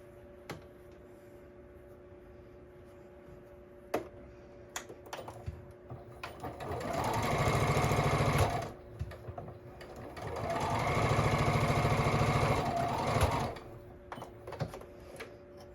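A sewing machine stitches quilt block fabric in two sustained runs of steady mechanical whirring, each a few seconds long, separated by a short pause, with light handling clicks before and between.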